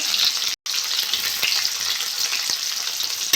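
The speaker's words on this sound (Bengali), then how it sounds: "আমি এবার পেঁয়াজ দিয়েছি তাতে কাঁচা লঙ্কা দিয়ে দেবো" Sliced onion and green chilies sizzle steadily in hot oil with cumin in a pan, a close, continuous crackling fry with occasional stirring scrapes and a brief dropout near the start.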